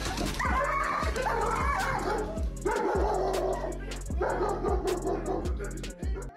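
A dog barks repeatedly in short bursts, mixing in yips and whimpering cries. The sounds are loud and close, with brief pauses between them.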